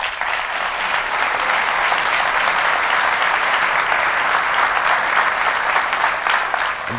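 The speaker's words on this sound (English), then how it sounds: "Please give a welcoming round of applause to Wayne County Executive Warren Evans." A crowd at the Oakland County State of the County Address gives Wayne County Executive Warren Evans a welcoming round of applause, steady and full-bodied, unbroken from start to finish with no talk over it.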